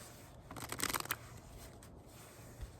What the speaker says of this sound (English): I'm gonna shuffle down here on my knee.